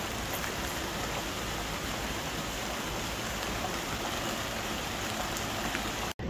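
Steady rain falling on fig trees, a dense unbroken hiss of drops throughout, without any voices.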